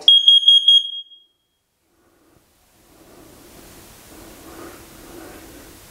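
A Google Nest Smoke and Carbon Monoxide Alarm sounds its carbon monoxide test: a quick burst of four shrill beeps, close and loud, then a soft hiss of background noise.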